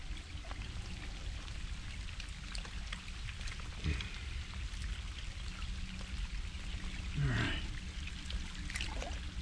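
Heavy rain pours down outdoors, a constant dense hiss and patter with scattered trickling and a few louder nearby splashes, no talk.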